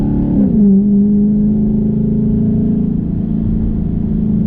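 Dodge Charger 392 with paddle shifters accelerating from inside the cabin, a loud steady engine drone whose pitch dips briefly and then holds, with no talk.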